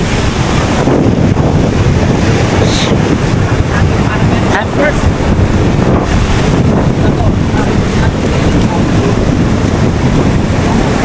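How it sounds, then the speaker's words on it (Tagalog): Loud, continuous ocean surf roaring steadily, heavily buffeted by wind noise on the microphone. "tingnan mo kasi ang mga alon ngayon, no?"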